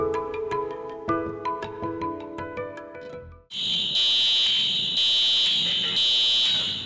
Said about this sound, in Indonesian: Jika Anda mendengar tanda bahaya kebakaran, tetap tenang dan jangan panik.